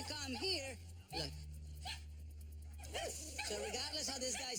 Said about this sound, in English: Now Cesar demonstrates leading Shadow calmly past the barking dogs